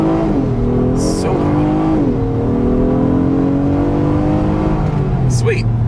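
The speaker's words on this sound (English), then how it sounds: "let's see how quickly we can get this one here up to speed. All right, yet again, we are in sport driving mode from a standstill" A 2026 Acura MDX luxury SUV in sport driving mode pulls away hard from a standstill, its engine note rising through gear shifts with steady, loud cabin roar; a few brief faint voices and clicks appear over it.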